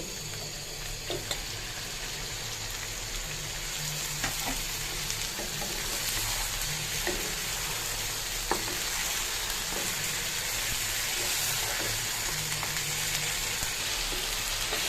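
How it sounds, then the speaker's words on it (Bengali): Chicken pieces fry in a spiced masala with a steady, dense sizzle, close and continuous, broken by occasional stirring scrapes and no speech. "তো আমি এখন চিকেনটা দিয়ে দিচ্ছি।"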